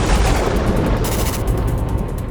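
A gas explosion from a leaking hose valve tears through a small three-room rental house, heard as a loud, dense roaring blast that stays heavy and rumbling across the whole moment without talk.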